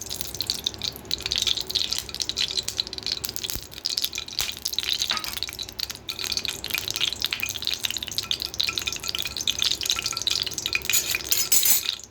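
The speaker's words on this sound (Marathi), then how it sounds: "मी आता आधी तेल टाकून घेते बघा" Oil poured into a hot kadhai, a steady liquid pouring and dripping sound with a faint sizzle, close and continuous for several seconds with no talking.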